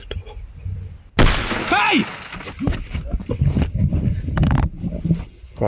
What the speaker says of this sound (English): witnessing the glass of his passenger side window shatter into pieces, Brendan quickly shouted at the individuals